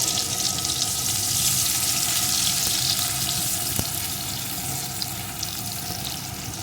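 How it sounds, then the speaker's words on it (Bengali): Chopped onion fries in the oil left over from frying pomfret fish, making a dense, steady hiss that stays loud and even throughout, with no voices. "এখন এই তেলের ভিতরে দিয়ে দেবো একটা পেঁয়াজ কুচি পেঁয়াজ কুচিটা একটু ভেজে নেব"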